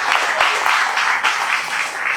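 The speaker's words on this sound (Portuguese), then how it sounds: "As palmas louvam o Senhor" Church congregation clapping in praise, a steady, fairly close wash of many hands applauding throughout a short stretch.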